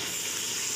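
Chicken browning in a pot for restaurant-style chicken pulao, a steady soft sizzle and hiss of frying, continuous and close with no talk.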